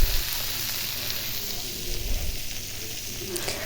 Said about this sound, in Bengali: তো আমি করলাটা তেলে ভালো করে বেশি হালকা ভাজবো